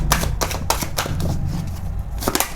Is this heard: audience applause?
no